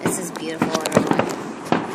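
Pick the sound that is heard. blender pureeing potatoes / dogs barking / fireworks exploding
fireworks exploding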